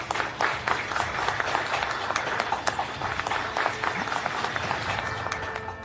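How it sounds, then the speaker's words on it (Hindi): Steady crowd applause fills the room at the inauguration of the seven-storey NHAI building by minister Nitin Gadkari, dense clapping continuing loud and unbroken throughout. "तालियां बजी।"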